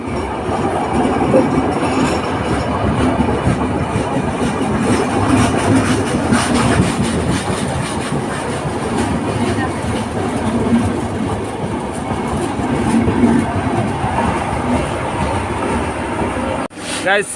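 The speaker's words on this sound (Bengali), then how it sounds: "প্রায় চল্লিশ মিনিট অপেক্ষা করার পরে ট্রেনটি ছাড়লো যমুনা সেতু পশ্চিম পাশ থেকে" Drutojan Express train pulling away from the west side of the Jamuna Bridge, a loud, close, unbroken rumble with rhythmic wheel clatter and occasional squeal that carries through the whole stretch.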